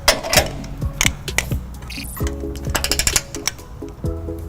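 A torque wrench fitted with a 19mm socket and 5-inch extension tightens a trailer hitch bolt on a 2015 Lexus GX 460, giving rapid close ratcheting clicks in bursts with brief pauses.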